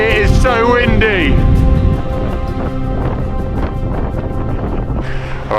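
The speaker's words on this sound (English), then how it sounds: "Wow! It is so windy!" Strong wind buffets the microphone beside Tilicho Lake, a freezing high-altitude lake on the Annapurna Circuit, as a steady roar with a voice talking over it near the start and end.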